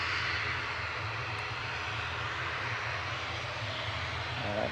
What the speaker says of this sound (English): This is Aer Lingus heading back to Belfast